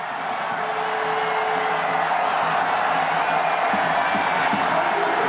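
A large crowd of Thai football fans roars steadily in a stadium after Thailand scores against Taiwan in a World Cup qualifier, a dense, sustained wash of cheering and whoops that stays loud throughout.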